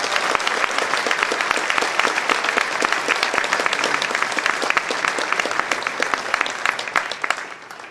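Steady applause from an audience fills the whole stretch, dense and continuous, greeting table tennis player Nima Alamian at a Jura Morez TT versus Villeneuve PPC club match.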